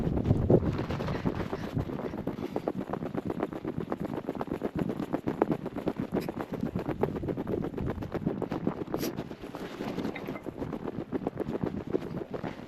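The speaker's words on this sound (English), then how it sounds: "the wind is brutal" Strong wind gusting against the microphone on a hike in cold 8-degree weather, a continuous rough rumble with rhythmic crunching footsteps underneath, fairly loud throughout.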